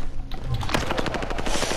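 Rapid automatic gunfire in the World War II–era shooter Warzone Pacific, a dense burst of repeated shots close up and loud, running steadily for under two seconds with no talk over it.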